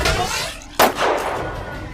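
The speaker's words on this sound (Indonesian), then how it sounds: "sebuah tembakan sukses menembus kepala Muad" A single sharp sniper rifle shot in a wartime battle setting, a loud sudden crack standing out over a low rumbling background, with a brief decaying tail afterward.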